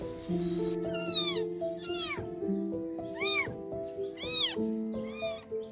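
Several high-pitched kitten meows, rising and falling, come in quick succession close up with short gaps between them.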